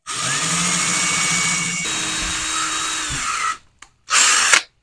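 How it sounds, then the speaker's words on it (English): A power drill whirs steadily for several seconds close by while drilling a hole for a 2006-10 Dodge Charger paddle shifter install, its pitch dropping as it bites in, then stops; a brief second burst follows after a short pause. "Let's just drill the other hole."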